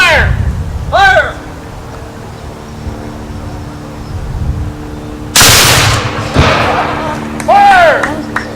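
Rifle shots from a firing demonstration at a county history and heritage day, a few sharp loud reports spaced seconds apart, with shouted commands and talk between them.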